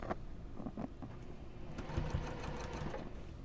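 A sewing machine stitching down quilt binding, a rapid steady mechanical whir and clatter that runs continuously and fairly close.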